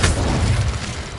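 The Incendio fire spell goes off in Hogwarts Legacy, a loud booming whoosh that bursts at once and fades out over about a second.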